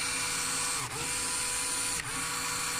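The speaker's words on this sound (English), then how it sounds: "the rotor keeps spinning in one direction" A battery-powered BuWizz motor spins the rotor of a LEGO Technic Airbus H175 rescue helicopter with a steady, close mechanical whine and hum, briefly dipping twice as the motor is reversed.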